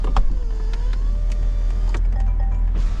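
Electric windows on a 2024 Jaguar F-Type R75 AWD convertible whir shut with a steady motor hum lasting a few seconds, clicking at the start and again as each glass stops, close and clear.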